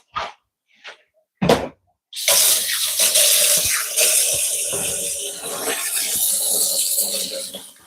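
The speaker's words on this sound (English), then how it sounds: "Wash my hands." Water running from a kitchen tap while hands are washed, a steady close rushing splash that starts after a few short sharp noises and carries on to the end, with faint bumps over it.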